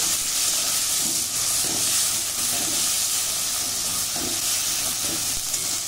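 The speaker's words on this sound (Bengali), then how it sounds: "খুব ভালো করে নেড়ে নেব যাতে টমেটো কাঁচা গন্ধটা না আসে।" Tomato and ginger paste frying in a pan, a constant hissing sizzle with soft, periodic scraping strokes of stirring, close and even in level with no voices.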